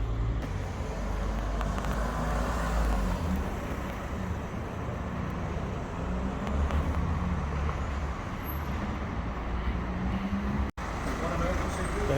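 A 2015 Ford Grand Tourneo Connect driving around a car park during a rear brake test after a rear brake change, steady road and engine rumble from inside the vehicle with people talking over it.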